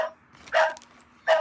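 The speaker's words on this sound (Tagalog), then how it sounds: "Ano mo yung aso?" A dog barking nearby, two sharp, fairly loud barks spaced about a second apart over a quiet background.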